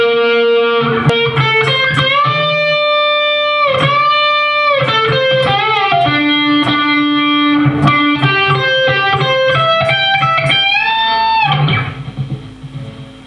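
Distorted electric guitar plays a solo passage with bends and sustained notes climbing into octaves, loud and continuous over backing, part of a guitar lesson.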